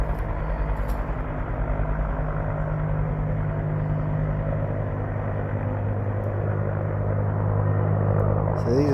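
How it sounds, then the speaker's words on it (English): Helicopters flying over the Green River wildfire near Saluda, North Carolina, a steady droning rotor and engine hum that stays constant and fairly loud throughout and swells slightly near the end. "these are the 2 helicopters I got from the other side a while ago"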